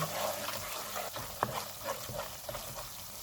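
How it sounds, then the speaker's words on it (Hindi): Spices with chilli powder, Kashmiri red chilli powder and fenugreek roasting in oil in a pan, a soft steady sizzle with occasional stirring scrapes and light clicks throughout, quiet and close. "इनको 3 से 4 मिनट तक भूनेंगे।"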